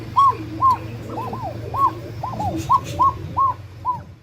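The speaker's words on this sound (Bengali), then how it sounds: "এখানে রয়েছে এক জোড়া কবুতর" A pair of pigeons at a pigeon market gives about nine short, arched calls in a steady, evenly spaced rhythm over a low background hum.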